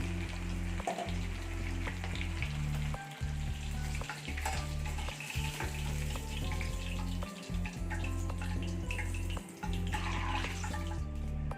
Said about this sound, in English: we are frying our second batch of the fish.